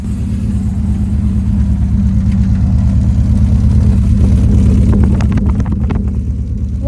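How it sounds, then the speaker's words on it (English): A BMW E36 M3 fitted with a full head-back exhaust and upgraded cams runs loud and close after a cold start, with a deep, steady exhaust rumble and slight rises in revs near the end. "Let's get a closer listen on the exhaust."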